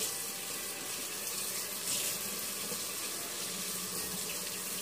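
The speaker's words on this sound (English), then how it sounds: "I'm gonna rinse them. Always best to rinse your mushrooms." Mushrooms are rinsed under a running kitchen tap, giving a steady, even hiss of water splashing into a sink throughout, close and continuous with no pauses.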